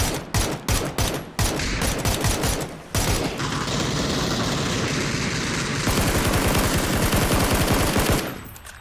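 Video game gunfire starts as a string of separate sharp shots, then turns into a long, loud, continuous burst of automatic fire that runs several seconds and stops abruptly.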